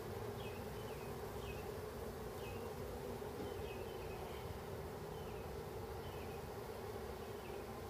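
Honeybees in a hive inside a BBQ grill, a dense, steady buzzing drone with faint higher chirps scattered through it, close and continuous, no talk.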